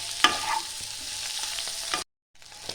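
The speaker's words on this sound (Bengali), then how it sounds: "ডিমটা আবার আমার ভাজা হয়ে গেছে" Egg frying in a pan for a Bengali steamed-egg dish, a close, steady sizzle with a few sharp spatters and scraping, cut briefly by a silent gap before the sizzling resumes.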